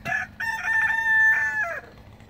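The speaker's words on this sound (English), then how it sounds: "you cock-a-doodle a lot, don't you" A rooster crows loudly and close by in a snowy backyard, giving a short call and then a long drawn-out cock-a-doodle-doo that trails off at the end.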